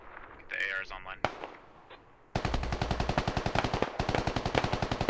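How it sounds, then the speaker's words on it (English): Gunfire in the tactical shooter Squad: after brief muffled talk and a lone crack, a sustained run of rapid automatic shots rattles steadily for several seconds at a distance. "There are some shots north, though."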